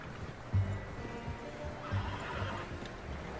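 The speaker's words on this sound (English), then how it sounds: "How's that new horse?" A horse in the Red Dead Redemption 2 video game whinnies twice in close succession with clip-clop hooves in the background, clear and fairly loud over steady game ambience.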